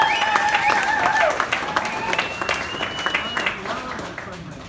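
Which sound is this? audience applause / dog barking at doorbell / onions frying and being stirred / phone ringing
audience applause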